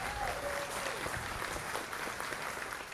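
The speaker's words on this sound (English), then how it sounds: "Let's give everyone a big round of applause." An awards ceremony audience applauds in an outdoor campus courtyard, steady dense clapping that holds for the whole stretch, fairly distant and even, with a faint voice or tone briefly audible early on.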